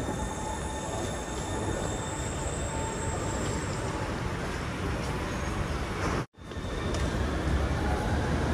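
A Copenhagen Metro M4 driverless train running with a steady rumble and high whine, briefly dropping out before resuming its continuous hum; no talking.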